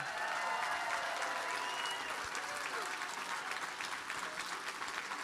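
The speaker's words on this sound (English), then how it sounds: "one more round of applause" Sustained applause from a large audience at a book festival event, steady and dense throughout with a crowd murmur underneath.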